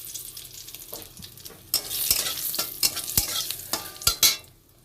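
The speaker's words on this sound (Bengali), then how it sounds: "কড়াতে সরিষার তেল দিয়ে দিয়েছি ফোড়নে দিচ্ছি তেজপাতা শুকনো লঙ্কা" Bay leaf and dried red chilli sizzling in hot mustard oil in a kadai, a close crackling sizzle that swells after a quiet start, with sharp clinks of a spoon against the pan and no talk.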